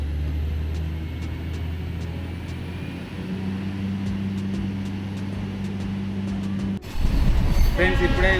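The Charminar Express 12760 at Warangal railway station, running late, gives a steady low rumble with faint rhythmic clicks, then a sudden louder surge of rolling, rattling noise near the end.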